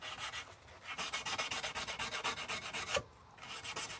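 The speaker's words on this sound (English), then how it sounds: "Sanding blades by hand," Knife blades are sanded by hand in quick, rhythmic rasping strokes, close and fairly steady, with a brief pause near the end before the rubbing starts again.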